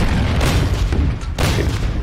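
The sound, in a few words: BF-110 strafing anti-aircraft guns in video game Order of Battle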